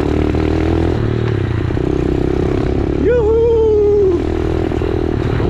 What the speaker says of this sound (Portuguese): Essa mini moto não pode estar andando na estrada